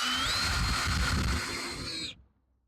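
A pocket hole screw driven into wood by hand with a power drill and no clamps, a steady whirring drill whine with a rising pitch that runs about two seconds and then cuts off abruptly into silence.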